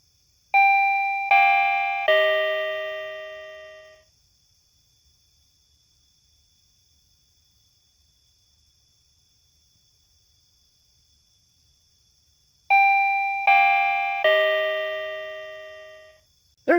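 A Hosmart wireless motion detector alert chime sounds clear and loud: a group of three descending bell-like tones rings out, fades away, then repeats after a long silence.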